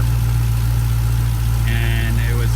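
A Dodge Hellcat V8 fitted with a new supercharger idles steadily and loudly. The low, even rumble stays constant throughout, and a faint high whine rises briefly near the end.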